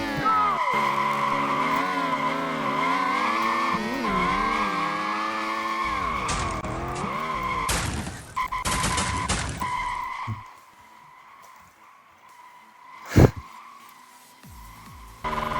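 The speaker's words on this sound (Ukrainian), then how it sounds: "Задні колеса як забуксовуються чомусь." Dragster rear tires spinning and squealing in Street Legal Racing: Redline, a loud sustained high-revving engine whine with tire screech for about eight seconds, then fading to a quieter idle hum with a brief sharp burst near the end.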